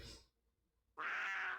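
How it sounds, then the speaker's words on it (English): A lioness cry from the game EverQuest for Pocket PC sounds as a short, loud, cat-like wail after a brief faint sound and a pause of near silence. "This, by the way, is the sound a lioness makes."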